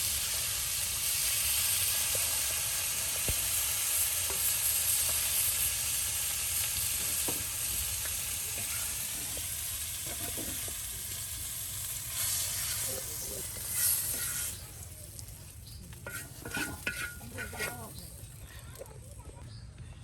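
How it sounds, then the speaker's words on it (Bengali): Fish sizzles as it fries in a pan in a village kitchen, a continuous close hiss with stirring clatter that thins out toward the end as faint clinks follow; a voice talks intermittently. "ভাজা হয়ে গেল মাছ, দেখুন"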